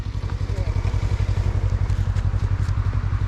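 A sidecar motorcycle engine running without its exhaust baffle, a loud, steady, rapid low throb that pulses evenly throughout, close by, with a little clatter on top.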